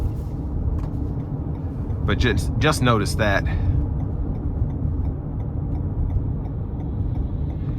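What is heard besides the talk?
Toyota Highlander tire noise on old back road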